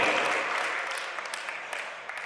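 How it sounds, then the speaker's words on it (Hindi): An audience at a Hindi-speaking gathering claps together in a dense, steady burst that starts loud and slowly thins out over about two seconds. "तालियां बजनी चाहिए, एक बार धर्म पत्नी है।"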